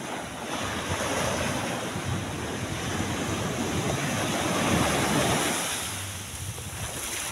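Sea waves at Nivati beach, a continuous broad roar of surf washing in close by, swelling gently and mixed with wind rumble on the microphone, with no voices.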